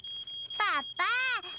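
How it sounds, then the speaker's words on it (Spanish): A smoke alarm set off by burnt toast chirps in a cartoon kitchen: a steady high tone broken by two loud, warbling squawks, close and piercing. "se me han quemado las tostadas y ha saltado la alarma de incendios"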